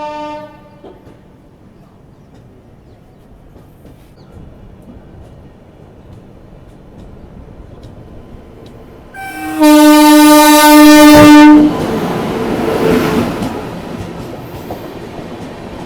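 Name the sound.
New Delhi–Lucknow Swarna Shatabdi Express train arriving at Tundla Junction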